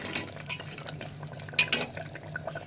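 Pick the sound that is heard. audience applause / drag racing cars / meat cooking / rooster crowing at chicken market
meat cooking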